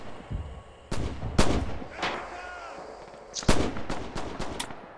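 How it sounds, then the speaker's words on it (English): Artillery shells burst in the World War II shooter Red Orchestra 2, several loud booming impacts landing at uneven intervals with rumbling tails and scattered gunfire between, no voices heard. "Are they artillery striking our spawn? Yeah, they are."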